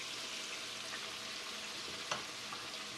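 Onions frying over medium-high heat in a pan, a faint, even sizzle with a soft stir or tap near the end, heard from a distance and without voices.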